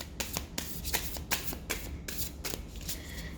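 Riffle-shuffling of a Stranger Creatures tarot deck, a quick series of crisp papery bursts spaced unevenly, close and fairly soft, with no talking.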